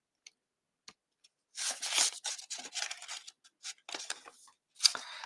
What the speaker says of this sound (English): I'm just going to leave it folded and do a little cut here and then see how it fits